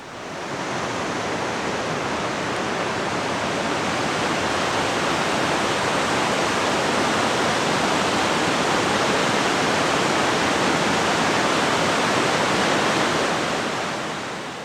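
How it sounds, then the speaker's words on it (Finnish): A powerful waterfall in the Reisadalen valley in Norway gives a loud, continuous roar of crashing water that holds steady throughout, with no voices. "mahtava veden ääni tietysti täyttää koko maiseman"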